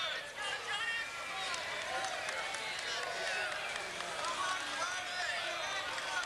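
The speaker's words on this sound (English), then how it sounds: "as you can hear with the crowd, they're all getting on Rusedski's back" Tennis crowd turning on Greg Rusedski during a delayed match, a steady murmur of many voices with scattered whistles and calls, heard at a distance under a close commentator's voice.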